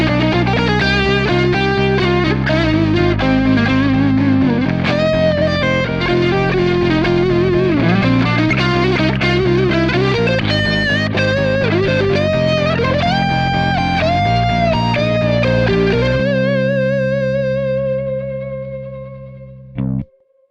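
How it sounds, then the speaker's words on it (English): Distorted electric guitar solo with effects, loud and continuous with sustained bent notes and fast runs over about fifteen seconds, fading into a ringing held note before a brief final hit. "So that's the guitar solo."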